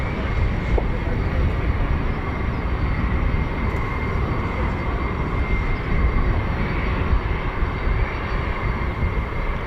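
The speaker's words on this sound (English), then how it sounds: "Wow, I did not expect to see more than 2 F-15s today." An F-15 fighter jet roars past at a USAF airbase, a loud steady broadband engine rumble sustained throughout, with people talking excitedly over it.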